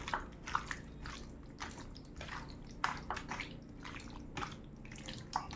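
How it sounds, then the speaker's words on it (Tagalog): Chicken for a homemade biryani squished and worked by hand in its marinade, giving soft wet squelches and small drips that repeat in an uneven rhythm, close and fairly quiet, with no talking. "So marinate natin sa kamay."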